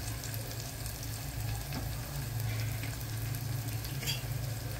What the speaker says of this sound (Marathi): आणि चांगलं परतून घेऊया